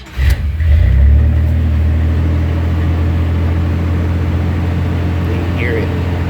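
A pickup truck, a V8-swapped S10 with a Flowmaster muffler and turndown exhaust before the axle, rumbles steadily with a deep, throaty muffled exhaust drone, revving briefly at the start and then idling loud and close.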